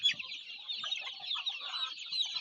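Shamo and native mixed-breed chickens cluck nearby in a busy run of overlapping calls, with soft low scratching sounds underneath.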